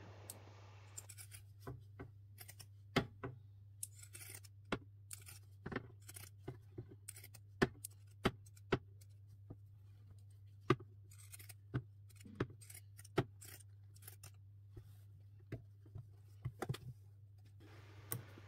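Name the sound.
scissors notching seam allowance of a pouch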